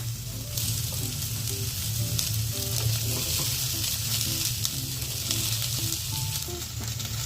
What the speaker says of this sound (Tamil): கூடவே இஞ்சி பூண்டு பேஸ்ட் ஆட் பண்ணிடலாம். நல்லா இந்த மாதிரி வதக்கிடலாம்.